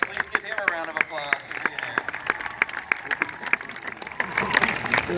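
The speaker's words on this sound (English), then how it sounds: "Please give him a round of applause" A school assembly audience at a 2016 employee-of-the-year event claps in a continuous, fairly close round of applause for a guest, while a speaker's voice continues over it.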